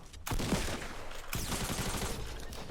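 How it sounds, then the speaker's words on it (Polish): Pistol fire in the video game Fortnite, heard as rapid bursts of gunshots that run almost the whole time, loud and dense, with a short gap before the shooting picks up again. "O, ktoś strzela."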